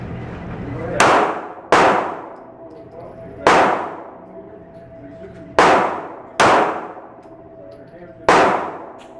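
Six sharp 9mm pistol shots ring out at an uneven pace, each striking a steel target with a loud metallic clang that rings briefly before decaying.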